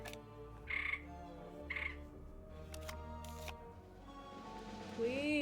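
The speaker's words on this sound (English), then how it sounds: "Can y'all hear the frog that's outside my window?" A frog outside a window gives short chirping calls, two brief bursts near the start, heard over steady background music and tones.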